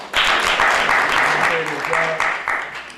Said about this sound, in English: Can we give Brother Charles a round of applause?